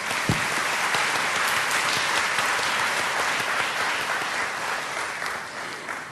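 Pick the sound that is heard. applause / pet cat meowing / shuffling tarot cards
applause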